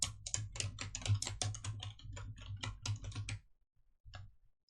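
Rapid typing on a computer keyboard while entering text in PowerPoint, a dense run of close clicks for several seconds, then a short pause and a few final keystrokes.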